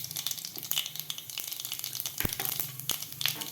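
Cumin seeds dropped into hot oil for masala khichdi, already crackling mustard seeds, give a close, steady sizzle and frying hiss with scattered pops and light stirring clinks.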